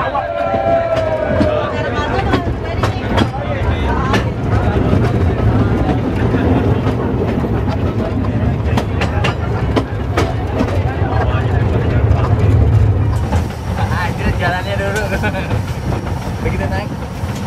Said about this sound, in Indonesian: Nah, kereta UAP.